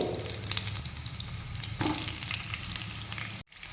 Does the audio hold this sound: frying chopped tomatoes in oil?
yes